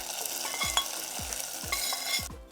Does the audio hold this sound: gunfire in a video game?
no